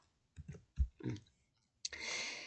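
Several soft computer mouse clicks on the zoom-in plus button in Excel, a few spaced taps close by in a quiet room, followed by a brief burst of hiss.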